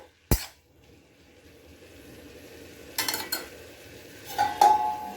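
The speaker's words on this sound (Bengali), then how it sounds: "শাকগুলো ভালো করে নাড়াচাড়া করে" A utensil scrapes and clinks against a pan while red amaranth greens with garlic, salt and turmeric are stirred, giving a few sharp knocks and scrapes over a faint sizzle.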